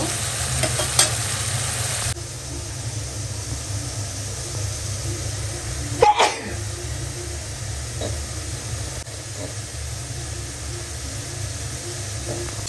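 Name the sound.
meat added to spices frying in a pan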